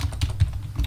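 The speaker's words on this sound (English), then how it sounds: "I'm quite slow at typing" Typing on a computer keyboard gives a quick run of close, light keystroke clicks in a brief burst.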